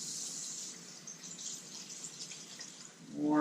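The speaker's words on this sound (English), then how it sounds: "I'm going to go ahead and wash my hands" Warm soapy water running from a kitchen sink tap while hands are washed before handling fresh red grouper, a steady close hiss of flowing water with soft splashing, louder toward the end.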